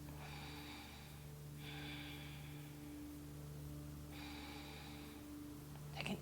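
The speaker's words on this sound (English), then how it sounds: "a couple more breaths" Slow yoga breathing during a session, several long airy inhales and exhales through the nose, soft and close over a low steady hum.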